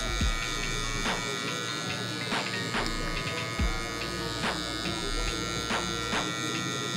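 Electric hair clippers with a half guard cutting hair during a high taper haircut, a steady close buzzing hum running throughout with brief shifts in tone as the blades pass through hair.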